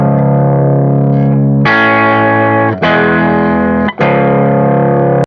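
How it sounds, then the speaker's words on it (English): Electric guitar through a VH4 amp on a mostly clean, slightly crunchy channel with no low end, all mids and treble; loud sustained chords strummed and changed three times, ringing without pause. "I'm starting with the VH4 again on channel 2, like mostly clean, slightly crunchy"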